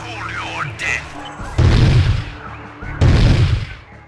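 A heavy weapon fires twice at Chaos troops in Warhammer 40,000: Chaos Gate, each shot a loud booming burst about a second and a half apart, after electronic warbling tones and with a voice briefly audible.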